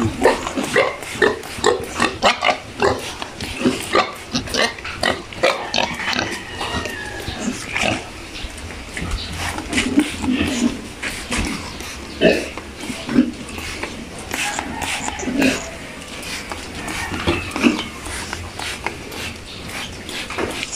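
Pigs on a backyard pig farm grunt and snort in frequent irregular bursts, close and fairly loud, with occasional clanks of metal feeders and a person talking among them.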